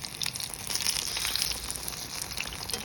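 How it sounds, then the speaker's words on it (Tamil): Batter-coated omavalli (karpooravalli) leaves fry in hot oil for bajji, giving a steady, close crackling sizzle with fine bubbling pops that continues evenly throughout. "இப்போ இந்த இலையை மாவில் துவைச்சிட்டு எண்ணெயில் போட்டுங்க."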